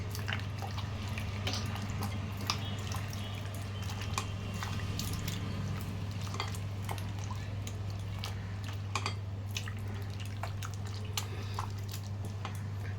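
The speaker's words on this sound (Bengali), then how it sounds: "জল দিয়ে ভালো করে ময়দাটাকে ধোবো" Flour dough is squeezed and washed by hand in water, giving soft squishing, sloshing and dripping sounds over a steady low hum, fairly quiet throughout.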